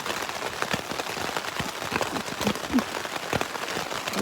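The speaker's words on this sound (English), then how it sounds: "hopefully this rain will let up just a little bit" Steady rain patters on the Appalachian Trail, a dense continuous hiss of drops striking the ground and surroundings with a few louder nearby splats, no voices.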